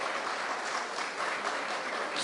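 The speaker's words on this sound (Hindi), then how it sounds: "तालियां थोड़ी बजा दें बच्चे के लिए" Steady applause from an Arya Mahila Samaj gathering in Vasai honouring a child, a dense, even wash of clapping that holds at a constant level for the whole stretch without any voices.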